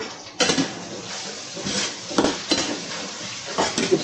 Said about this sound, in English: Just going to sweat our onions down a little bit.